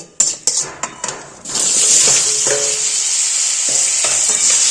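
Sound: frying potato, drumstick and raw banana in a pan

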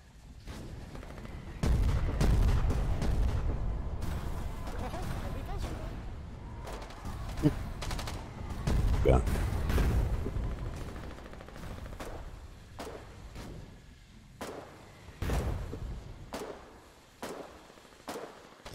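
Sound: gunfire in the video game Foxhole

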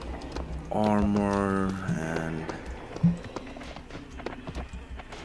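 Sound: skeleton horse hooves in Serious Sam video game

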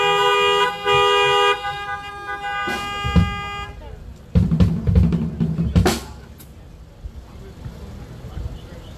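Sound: car horns honking at drive-in church service

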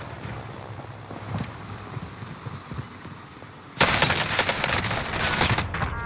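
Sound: gunfire from video game Call of Duty Warzone

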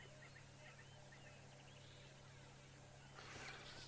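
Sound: birds calling at sunrise in the African bush

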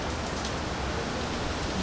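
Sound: heavy rain

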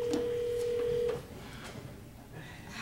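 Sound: telephone ringing tone on a call

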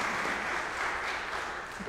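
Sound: adults in church applauding the children greeters

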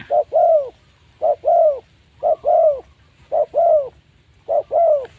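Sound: spotted dove cooing

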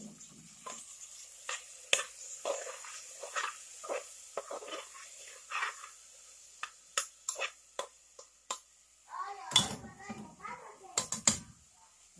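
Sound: stirring pasta with tomato in a pressure cooker pot

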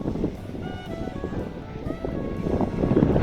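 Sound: strong wind

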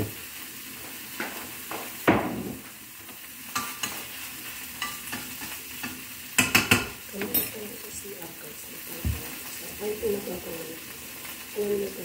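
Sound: tomato frying and being stirred in a pan

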